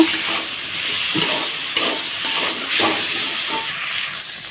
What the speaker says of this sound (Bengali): হলুদ গুঁড়ো দিয়ে নিয়েও ভালোভাবে কষিয়ে নেব